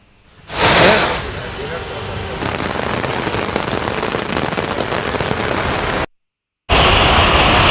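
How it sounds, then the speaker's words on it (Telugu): Heavy rain pours down in Hyderabad, a dense, loud, continuous roar of drops hitting the ground and surfaces, cut off by a brief silence before it resumes. "ఇదిలా ఉండగా రంగారెడ్డి జిల్లా వ్యాప్తంగా చాలా ప్రాంతాల వరకు వర్షాలు బీభత్సాన్ని సృష్టించాయి"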